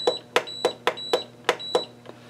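Heidi Swapp Minc foil machine heating up and beeping: about seven short, evenly spaced electronic beeps with faint clicks, close by and alone.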